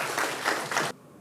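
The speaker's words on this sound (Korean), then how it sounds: "큰 박수로 환영해 주십시오" Audience applause at a regional democracy forum in Korea, a dense burst of many hands clapping that fills the room for under a second, then cuts off abruptly into near silence.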